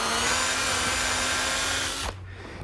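A power drill drives three-inch exterior-grade screws into a wooden garden gate, a steady close whine that stops abruptly near the end and leaves a quieter background.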